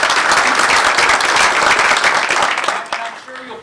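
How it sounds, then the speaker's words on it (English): An audience at a Citrix seminar gives a round of applause, dense clapping that holds steady, then thins and fades out at the end. "a big round of applause for the person who puts this all together for us, Joanne."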